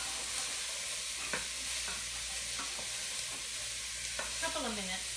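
Vegetables frying on high heat in a pan for turkey bean chili, a steady close sizzle with repeated scrapes and knocks of a spoon stirring through them, no voices.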